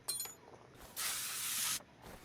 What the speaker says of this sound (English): Gotta spray those frozen bolts.